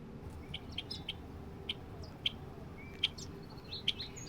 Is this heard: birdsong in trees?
yes